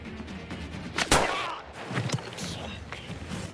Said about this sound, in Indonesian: si penembak jitu kembali meluncurkan tembakan